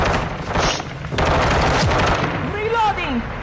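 Rapid gunfire in a shooter video game: loud automatic bursts and booming shots, a short pause, then more firing, with a shouted voice near the end.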